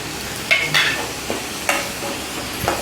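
Onions and a handful of curry leaves sauté in a pan for idli kurma, with a soft sizzle under a few distinct spoon scrapes and clinks spaced irregularly, close by and without speech.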